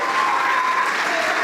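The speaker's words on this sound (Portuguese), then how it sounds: "Vamos aplaudir mais por cada vida que está chegando." A church congregation claps steadily in a dense, even round of applause that fills the room from start to finish.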